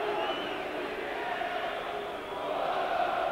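Football crowd at an Arsenal versus Middlesbrough FA Cup tie reacting to defender Danny Mills, a steady wash of massed voices and chanting from the stands that stays even and full throughout with no clear single shout.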